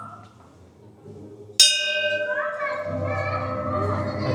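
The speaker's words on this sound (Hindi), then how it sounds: "बजाइए घंटी" A bell in a digital tribal museum in Chhattisgarh is struck once to trigger a sound-sensing projector animation, ringing with a sharp bright onset and a long shimmering decay after quiet room tone, with murmuring voices in the background.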